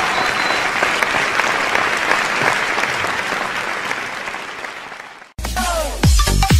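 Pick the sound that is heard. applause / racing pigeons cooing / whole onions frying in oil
applause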